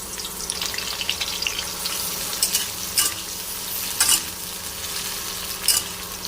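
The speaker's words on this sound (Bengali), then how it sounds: "মাশরুমকে ভেজে নেব হালকা করে, একদম হালকা করে।" Mushrooms frying lightly in oil in a pan while being stirred, a constant close sizzle broken by several sharp scraping stir strokes.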